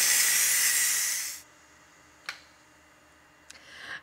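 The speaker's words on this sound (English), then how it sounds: "It took about 2 minutes for the pressure to release." A pressure cooker holding potatoes vents steam through its valve in a loud, steady hiss for about a second and a half, then cuts off abruptly, leaving quiet broken by a couple of faint clicks.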